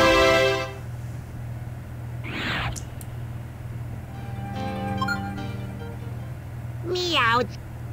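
Cat-like meowing cries come from the Pokémon Puzzle League video game, with one short cry at the start and another near the end and a voice talking between them.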